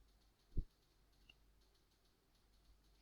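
A single computer mouse click during PDF conversion on a PC, one short soft tap close by in an otherwise quiet room, followed by a much fainter tick.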